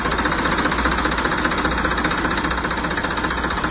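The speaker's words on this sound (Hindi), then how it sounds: "धर्मू कुछ देर बैठने के बाद ट्रैक्टर को स्टार्ट कर देता है" A tractor engine runs with a steady, rough, rapid diesel rattle, close and fairly loud, holding an even drone with no talking over it.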